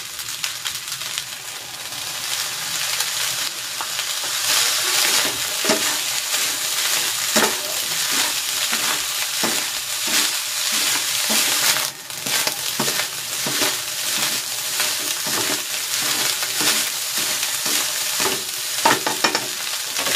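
Chicken fried rice for teriyaki chicken fried rice sizzles loudly in a hot pan as soy sauce goes in. A spatula stirs and scrapes the pan in a quick, irregular rhythm over constant frying noise.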